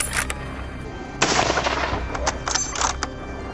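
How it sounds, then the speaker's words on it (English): Gunfire during a wild boar hunt on Moroccan farmland, a burst of several sharp shots with a loud sustained volley near the middle followed by scattered reports. "Gunshots rang out, and 2 adult wild boars were taken down in the blink of an eye"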